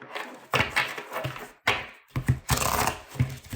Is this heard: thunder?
no